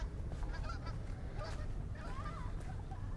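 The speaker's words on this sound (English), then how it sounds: "Oh, they are Canada geese." Canada geese honk a few times at moderate distance over a steady outdoor hum near tidal flats in downtown Anchorage, faint and intermittent.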